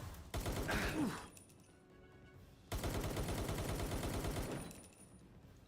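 In Palworld, two long, loud rattling bursts of automatic gunfire sound close by, with a quieter stretch between them.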